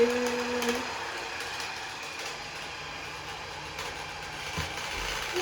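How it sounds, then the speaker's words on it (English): A small machine whips up dog shampoo in a lidded container, giving a steady, faint mechanical whir with light ticking and clicking throughout. "So it's going to whip up the shampoo for us."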